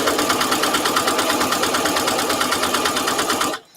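A sewing machine hums in one continuous close run stitching a placemat, with a fast even needle rhythm that stops abruptly at the end.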